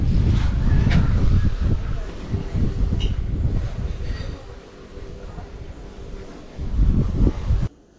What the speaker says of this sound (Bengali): বিউটিফুল হাওয়া।